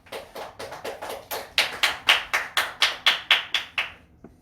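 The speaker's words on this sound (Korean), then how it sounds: "우리 하나님께 영광의 박수 올리겠습니다" A church congregation claps during a worship service in a slow, even rhythm, about a dozen loud unison claps that start soft and grow stronger, with no voices over them.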